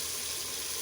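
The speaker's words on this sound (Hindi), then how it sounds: "आधा गिलास पानी डालकर" Half a glass of water poured into a pan of fried tomato masala for aloo katli salan, producing a brief, close, steady rush of water with a hot sizzle.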